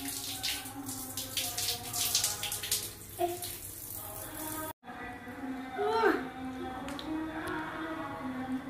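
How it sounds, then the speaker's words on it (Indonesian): Tap water runs steadily while hands are rinsed at a home sink, a continuous splashing flow with a voice and adult talk over it and a brief break midway. "Teman-teman, kita cuci tangan dulu ya."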